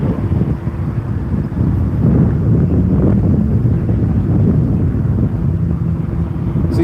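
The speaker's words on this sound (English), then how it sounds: "It's windy right now. In case you're like, man, it's windy. It sounds windy." Heavy wind buffets the microphone outside Paycom Center in Oklahoma City before an NBA Finals game, a loud, low rumbling roar that gusts continuously without letting up.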